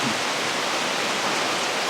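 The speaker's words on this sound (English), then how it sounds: "it's raining, folks." Steady, dense rain hiss fills the whole moment, an even wash of falling water with no voices.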